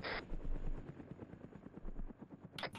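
A helicopter flies nearby in a military setting, its rotor a faint, steady rhythmic chopping that pulses evenly throughout, with no voices.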